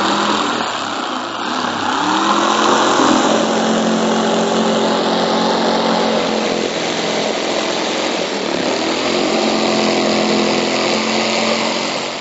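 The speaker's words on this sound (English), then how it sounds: "Then we're going to cut it out with a jigsaw." A jigsaw cuts through a wooden backing board, its motor buzzing in a loud, steady drone that holds at near-constant intensity throughout, with no talking.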